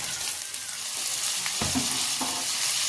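Tomato hitting a pan with ginger and garlic gives a loud, close, continuous sizzle, with a couple of scraping stirs near the end.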